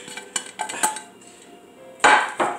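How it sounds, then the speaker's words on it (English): Cream cheese and other cheese ball ingredients being mixed in a bowl, giving a series of clinking, scraping knocks of a utensil against the dish, with a louder cluster of clatters near the end. "I want to give that a good mix and combine them all together."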